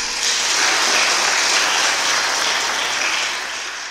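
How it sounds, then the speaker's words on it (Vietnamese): An audience at a Buddhist Dharma talk breaks into full, steady applause, a dense even roar of many hands that holds for several seconds and tapers slightly at the end. "Vỗ tay đi chứ."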